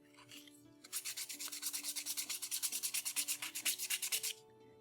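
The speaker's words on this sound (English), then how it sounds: "Now we sand it." Wooden wheel of a hurdy-gurdy being sanded in steady rhythmic back-and-forth strokes, about twenty quick close scrapes in a row, with a faint hum beneath and no talk.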